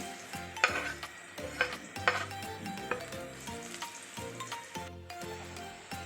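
Chopped onion frying in hot oil in a wok for a crab curry, a steady loud sizzle with bursts of crackle and repeated scrapes and stirs of a utensil against the pan, no voices.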